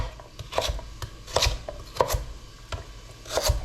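A knife chops celery on a cutting board for a homemade lasagne, giving sharp, close thuds in small bursts with brief pauses between them and no talking.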